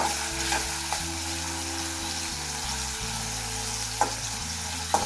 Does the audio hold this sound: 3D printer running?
no